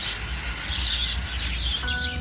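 Birds chirping outdoors at a beach, bright twittering calls scattered over a steady roar of wind or surf, with a sustained whistled note near the end.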